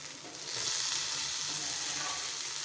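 Chettinad-style fish fry deep-frying in hot oil over a medium flame, a steady dense sizzle that swells louder after a moment and holds continuously, close and alone with no talk.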